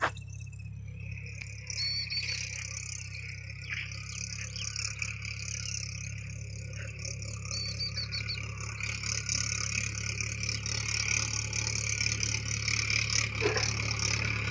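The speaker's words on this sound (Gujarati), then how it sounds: "તો જુઓ આપણે ટ્રેક્ટર હાલ્યું આવે છે।" A tractor arrives on a farm for sowing groundnut, its engine a steady low drone that holds throughout while insects chirp loudly over it; no one speaks.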